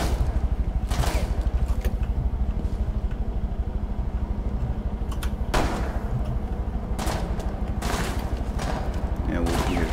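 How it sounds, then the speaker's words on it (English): Rainbow Six Siege gunfire rattles in rapid automatic bursts over a steady mechanical hum, with several sharp shots standing out at intervals and faint voices talking underneath. "They shot through the west entrance."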